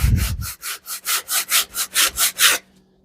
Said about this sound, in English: and sand it on there, nice and straight